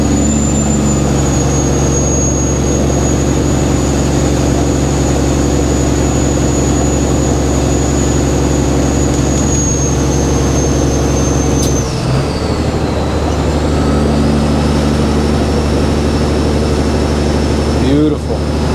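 A Kenworth W900 truck engine drones steadily while driving through snow in New York, a loud continuous rumble with a high whine that dips and shifts briefly partway through.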